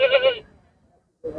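A goat at a livestock market in Lahira Bega gives two loud, close bleats, one long and one starting just as the clip ends, with a quiet gap between them.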